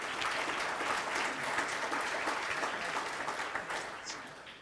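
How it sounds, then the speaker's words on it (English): A crowd applauds an inductee at a USA Softball of Michigan Hall of Fame ceremony, a steady wash of clapping that holds throughout and tapers slightly at the end, with faint voices underneath. "applause."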